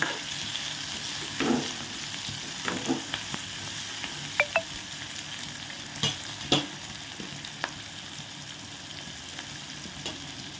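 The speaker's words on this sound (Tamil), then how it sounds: "புதினா கருவேப்பில எல்லாம் போட்டு நல்லா வதக்கும்" Onion, green chili, mint and curry leaves sautéing in a pan for tomato chutney, a steady close sizzle with occasional scraping stirs of a spoon against the pan.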